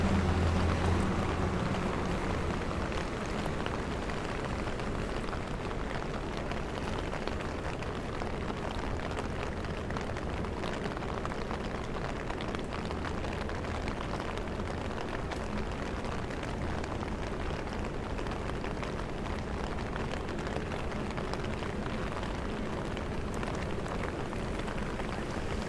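Rain falls on the streets of Manhattan during Tropical Storm Henri, a dense, steady hiss of drops on pavement that holds unbroken at an even, moderate level, with faint low city rumble beneath and no voices.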